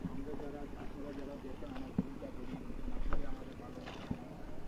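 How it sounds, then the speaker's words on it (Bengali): Riding in a boat on water, soft wash and splashing against the hull with occasional knocks, under a steady wind hiss and a voice talking nearby. "এখন আমরা নৌকাতে রয়েছি"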